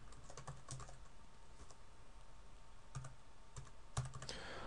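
Keys on a computer keyboard being typed in short, irregular bursts, faint and close, with a few louder clacks; a username and password are being entered.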